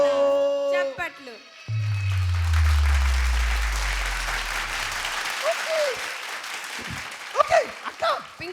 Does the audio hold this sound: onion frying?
no